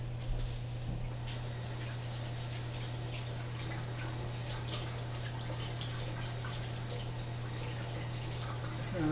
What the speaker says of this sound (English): I'm gonna wash my carrot real quick.